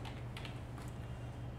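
Faint, quick key clicks on a computer keyboard while typing HTML code, soft tapping over a low steady background hum.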